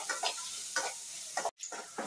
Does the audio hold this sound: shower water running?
no